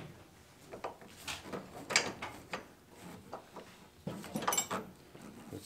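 A 7/8 wrench ratchets and clanks on a car's traction bar during a suspension job, giving irregular metallic clicks and scraping strokes in two bursts over a faint background hiss.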